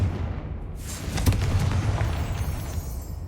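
Confringo, a fire spell in Hogwarts Legacy, bursts with a deep booming explosion that swells around the middle and rumbles on amid crackling game noise, fairly loud and close.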